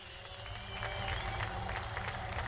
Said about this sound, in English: can we get a round of applause out there in tough conditions for Dennis Murphy and Martin Richards?